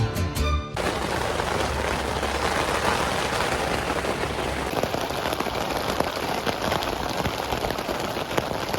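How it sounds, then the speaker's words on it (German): Heavy rain pours steadily onto a campsite where a tent has just been pitched, a dense, continuous hiss with patters of drops close by, no speech. "Kaum sind wir angekommen, regnet es in Strömen."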